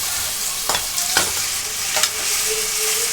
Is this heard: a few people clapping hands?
no